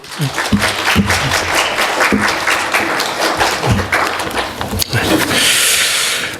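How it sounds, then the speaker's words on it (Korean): A church congregation applauds to encourage the children at a Christmas Sunday service, producing sustained clapping throughout with some sharper thumps and taps mixed in. Voices are heard faintly under the applause. "자, 아이들 저 성경 공부 잘하게 박수로 한번 격려해 주세요."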